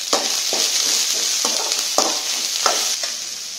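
Onions, garlic and tomatoes with salt sautéing in a pan for spicy kara chutney, a loud close sizzle punctuated by regular scraping strokes of a spoon about every half second; no talking.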